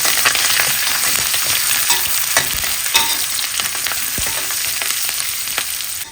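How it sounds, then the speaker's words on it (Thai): Holy basil leaves frying until crisp in leftover hot oil, a loud, dense crackling sizzle that holds steady throughout with scattered sharper pops, close up. "เราก็เอาใบกะเพราที่เหลือเนี่ยไปทอดกรอบเลยค่ะ"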